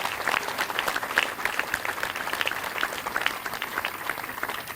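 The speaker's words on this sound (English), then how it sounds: "So a round of applause for our donors" Applause for donors at a news conference marking a tennis center groundbreaking: a steady crowd of hands clapping throughout, moderately loud and even, with no talk over it.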